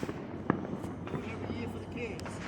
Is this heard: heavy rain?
no